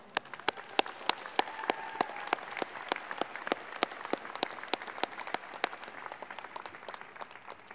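A graduation ceremony audience applauds, with sparse, distinct handclaps that sound fairly small and distant, clapping steadily at an uneven rhythm over a quiet room, with a faint tone briefly present.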